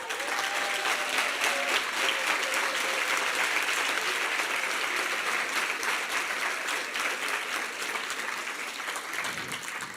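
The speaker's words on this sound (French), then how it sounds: "Maëla, on peut l'applaudir." Warm, continuous clapping from an indoor audience runs steadily throughout, fairly distant and even, with a faint voice at the start before the applause settles in alone.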